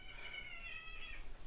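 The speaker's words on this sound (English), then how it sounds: "Hey, stop fighting over there. Sorry about my cats." Cats fighting indoors, with quiet, strained meowing and yowling sounds rising and falling over one and a half seconds, heard from a short distance against a low room hum.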